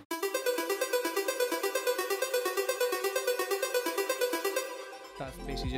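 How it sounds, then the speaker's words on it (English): A synthesizer sine pluck plays a quick, even arpeggio in a progressive house verse, with bright repeated short notes in a steady stream for about five seconds before it fades out. No one speaks over it. "another sound I have in my verse is a sine pluck that sounds like this."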